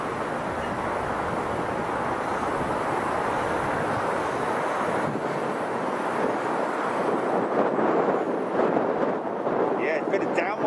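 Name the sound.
jet airliner passing at Chicago O'Hare airport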